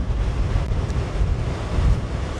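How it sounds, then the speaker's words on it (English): Ocean waves break and wash in at a breezy beach surf spot, a continuous rumbling surf mixed with heavy wind buffeting the microphone, with no talking. "There's definitely some waves coming in, but it is breezy."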